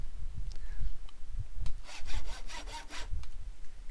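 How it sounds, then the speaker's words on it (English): Sawing effect from weapon crafting in the Minecraft Tinkers Construct mod: a short run of rhythmic back-and-forth rasping strokes, fairly close and clear, with no talk over it. "And a little sawing noise, and you get your weapon made"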